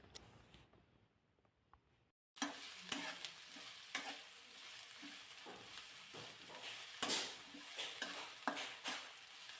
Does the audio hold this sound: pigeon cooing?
no